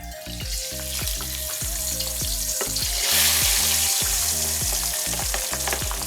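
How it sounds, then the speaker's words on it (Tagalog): Marinated pork for lechon kawali frying in hot oil, a loud, steady crackling sizzle that swells into a denser hiss partway through, close up and with no one talking. "Make sure that the oil is ready for frying. Then we will toss the marinated pork."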